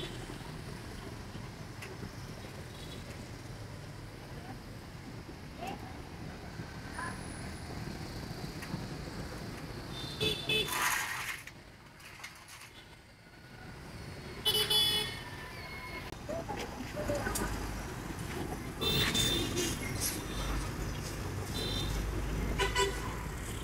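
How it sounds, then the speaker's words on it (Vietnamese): Busy morning traffic at the roundabout intersection on Hai Thuong Lan Ong street, with steady motorbike and car engine noise, several short horn toots sounding near and far, and a brief quieter lull midway. "rất là đông và xe cộ qua lại tấp nập"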